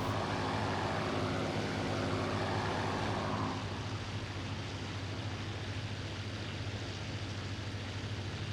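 Steady drone of a Spitfire's engine in flight in IL-2 Sturmovik: Battle of Bodenplatte, a loud continuous propeller-engine roar with a low hum that holds throughout, its higher rasp easing slightly partway through.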